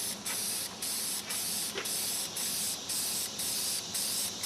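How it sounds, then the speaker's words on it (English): An aerosol can sprays clear coat onto kitchen cabinets in steady, even strokes, a close and continuous hiss broken by short regular pauses between passes, with no one talking. "just spray even strokes"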